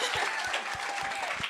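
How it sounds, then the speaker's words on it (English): Audience applause for a singer at a Raise Your Voice 4 Peace talent show: a brief burst of scattered crowd clapping with a few close, punchy claps standing out, fading slightly toward the end. "Y'all give her another round of applause"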